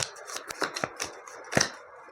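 Tarot cards being shuffled make a quick series of crisp riffling and flicking bursts, close by and uneven in rhythm, with short gaps between them.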